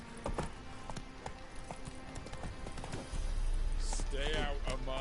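Hooves of the horse Roach clip-clopping at a gallop in The Witcher: Wild Hunt, a quick steady rhythm of thuds under game ambience, with a brief voice and a whinny near the end.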